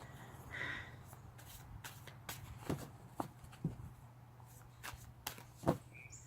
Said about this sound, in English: I hope I can shuffle these okay.